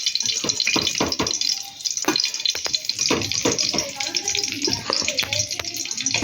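Cauliflower pieces frying in hot oil until reddish-brown give a steady, close hiss of sizzling, broken by occasional clinks and scrapes of stirring.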